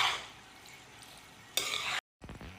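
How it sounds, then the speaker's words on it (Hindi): Elbow macaroni being stirred with soy sauce in a pan, a soft faint scraping and sizzle that swells briefly into a louder stir before a short silence and a few more strokes. "मिक्स करेंगे इसको फिर से अच्छे तरीके से।"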